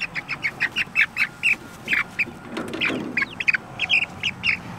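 Backyard chickens in a garden coop squawk and cluck in a quick run of short, loud calls that come one after another, close to the microphone.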